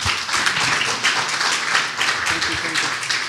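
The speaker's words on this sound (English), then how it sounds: "Big round of applause for Bell Tech." An audience bursts into a round of applause, loud, close and continuous, with dense clapping sustained throughout and no break.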